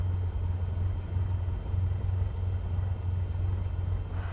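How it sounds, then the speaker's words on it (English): Aircraft engine throttling up in Microsoft Flight Simulator, a steady low droning hum that holds close and even throughout the short stretch, with no talking. "increase throttle to get the aircraft moving"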